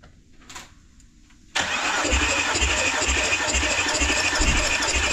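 An Audi car engine is cranked and catches after a quiet pause, bursting into a loud, steady running roar with a low rhythmic throb that continues to the end.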